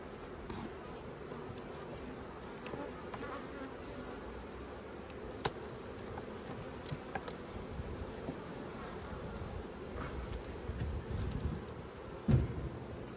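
Honeybees buzzing around an opened hive during a fall inspection, a faint, steady drone of many insects close by with a few sharper knocks and handling noises near the end.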